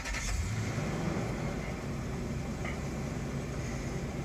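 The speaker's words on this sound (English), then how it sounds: "I'll start the car." A Lexus LX470 engine starts and settles into a steady, close idle, a loud continuous rumble with a brief burst at the start and no talking.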